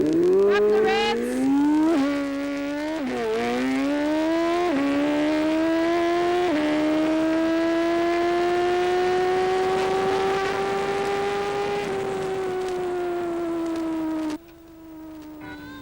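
Drag bike engine screaming down a drag strip, climbing in pitch through several sharp gear changes in a loud, continuous run of about fourteen seconds before cutting off abruptly.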